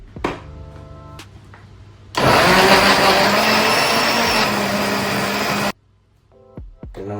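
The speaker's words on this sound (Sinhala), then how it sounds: "එහෙනම් අපි බ්ලෙන්ඩ් කරමු." An electric blender whirs loudly for about three and a half seconds, blending protein breakfast ingredients, starting abruptly and cutting off sharply, with quieter clatter and handling before and after.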